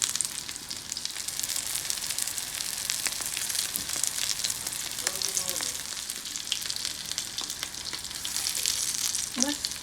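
Tuna and potato cutlets fry over medium heat, giving a dense, steady sizzle and crackle of hot oil throughout, close and fairly loud, with a few small utensil taps and no talking.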